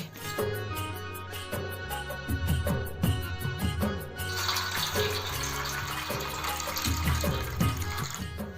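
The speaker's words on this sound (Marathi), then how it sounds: "इथे ना आपण सर्वात पहिलं फुलं धुवून घेतोय" Water splashing and running in a basin with sloshing as wild flowers are rinsed by hand, fairly close, continuous with rhythmic swishes; no talking.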